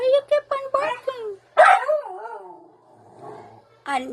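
A small house dog in the Philippines lets out short yips and a drawn-out, whining bark-howl up close, with a person speaking to it in between.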